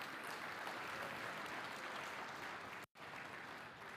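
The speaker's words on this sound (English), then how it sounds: "A round of applause for Ifeanyi." A conference audience applauds steadily, dense even clapping from a large crowd that holds at full strength throughout, broken only by one very brief dropout near the end.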